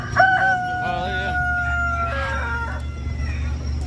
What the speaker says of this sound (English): those are my favorite chickens